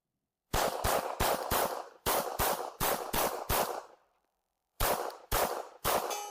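A SIG Sauer P226 pistol fires two strings of rapid shots, each blast sharp and loud, with a short pause between groups and no talk.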